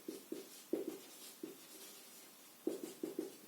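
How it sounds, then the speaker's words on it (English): Chalk tapping and scraping on a classroom board during a lecture on the IC 555 timer, coming as short quiet strokes in two bursts with a pause between. "So I just write here"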